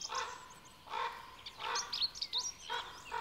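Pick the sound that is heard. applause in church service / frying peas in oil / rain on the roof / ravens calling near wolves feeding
ravens calling near wolves feeding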